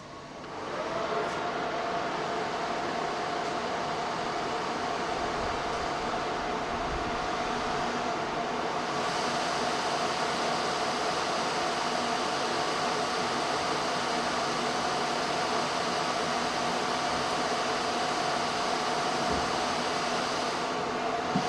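Chassis cooling fans of a Juniper MX480 router running at full speed after power-on: a loud, steady, broadband whooshing roar with a faint whine, continuous and unchanging throughout, with no talking.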